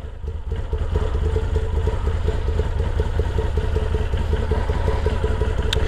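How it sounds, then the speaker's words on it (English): A Moto Guzzi V7 motorcycle on a test ride gives a steady, close, throbbing engine rumble with a rhythmic mechanical clatter, rising slightly in level after the first second and holding without speech. "first time taking it out for a little test ride"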